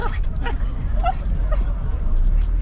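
Dog outdoors in a busy Kato Paphos street gives a few sharp yips and barks amid people talking and passing traffic.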